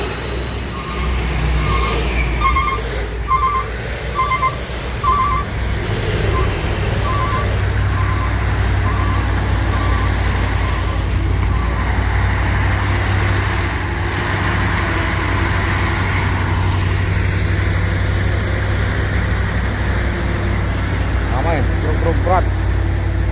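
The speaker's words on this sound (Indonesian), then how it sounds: "Truk berat." A heavy truck idles and rumbles with a deep, steady engine drone, while reversing beeps pulse early on, a brief hiss near the end suggests air brakes, and people talk throughout.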